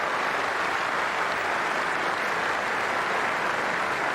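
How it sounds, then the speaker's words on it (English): Steady applause from a cricket crowd and the Sri Lankan balcony greets Aravinda de Silva reaching fifty in an England versus Sri Lanka Test, a dense, even clapping that holds without pause throughout. "the Sri Lankan balcony applauding batsmen and milestones"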